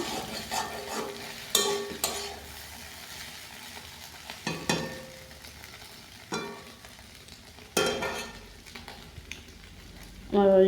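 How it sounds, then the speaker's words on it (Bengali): Mixed vegetables frying in a pan, with steady sizzling broken by several loud scraping stirs of a spoon against the pan at irregular intervals, close by. "চলো আবার একটু নেড়ে নিচ্ছি।"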